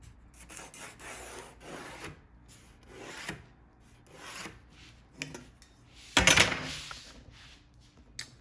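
A pencil or marker scrapes and rubs along a wooden board in short strokes, faint and close, with a sharper louder scrape near the end, as a straight line is marked out for a bookshelf.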